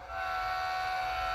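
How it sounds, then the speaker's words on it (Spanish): A long, steady military train locomotive whistle sounds loudly and continuously as a departure signal, with strong sustained tones over a low engine rumble. "Silbato largo,"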